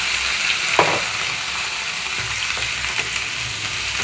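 Cut tomatoes frying in hot oil for a tomato sesame chutney give a steady, close sizzle with a brief louder spatter near the start, alone without talk.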